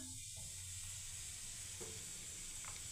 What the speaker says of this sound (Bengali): দেখুন আমি তেল ঢেলে দিলাম।